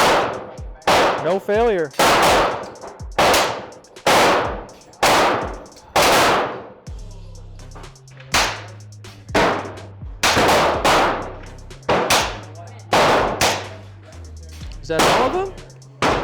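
Huben air pistol firing shot after shot through its magazine, about a dozen sharp, loud cracks at irregular intervals with a low hum between some of them, while people talk briefly.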